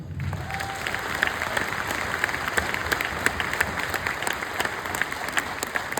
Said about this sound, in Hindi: अब तक की सबसे शानदार तालियां बजनी चाहिए मामचंद सर के लिए